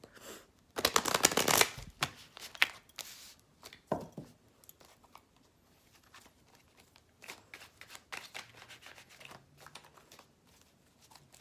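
Tarot cards shuffled by hand during a love reading, a dense burst of riffling near the start followed by scattered softer card slaps and shuffles, close and fairly quiet with no talk.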